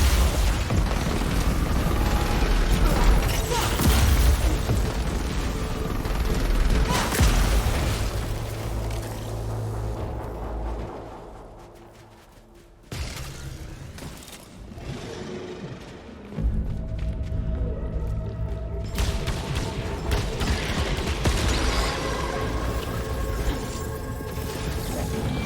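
Turret gunfire in the sci-fi shooter game Returnal: loud, dense booming blasts and mechanical clatter that keep going, drop to a brief lull midway, then surge back.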